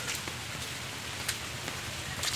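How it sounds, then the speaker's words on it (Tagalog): Steady rain falls outdoors during a rainy-day outing in the Philippines, a continuous close hiss of drops with a few sharper patters and no talk. "Umuulan po."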